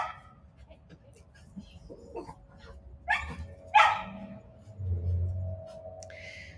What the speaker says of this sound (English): My dog is very protective of the yard.